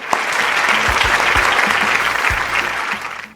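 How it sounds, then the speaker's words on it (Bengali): Loud, dense applause from a studio audience at a children's talent show, steady clapping filling the whole stretch and easing slightly near the end, with no talking over it. "ইউরেকা এবং ইউরেকা টিমের জন্য একটা জোরে হাততালি"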